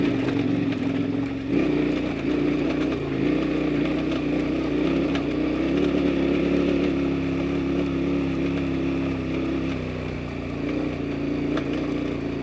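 KTM adventure motorcycle with a loud exhaust needing repacking and a delaminating carbon fiber tip, idling nearby: a steady, deep droning rumble with a slight lift in pitch partway through, running on its own with no talk.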